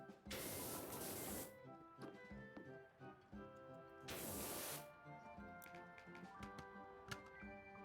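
Pressure washer nozzle spraying in a cleaning video game, two long hissing bursts of spray separated by a pause, over steady background music.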